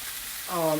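Meat browning in a hot pan for lasagna, a soft steady sizzle that swells louder halfway through as food is stirred or turned, close and continuous with no talk.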